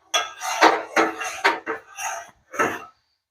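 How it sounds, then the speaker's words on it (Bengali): A spoon stirs saffron and cardamom tea in a pot, giving five or six short scraping and knocking strokes at close range with brief pauses between them. "আর চাটাকে আমি ভালো করে নেড়ে নিচ্ছি।"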